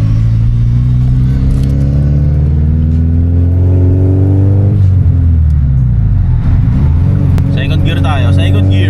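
A 1999 Honda Civic SiR engine revs hard, the loud steady drone climbing in pitch as it pulls, then dips near the end before rising again, with voices talking over it.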